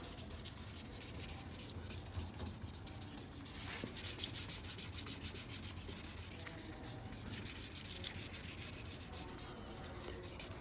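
A Honda headlight lens is sanded during restoration, a faint, steady scratchy rubbing that continues throughout with one small sharp tap early on and no talk.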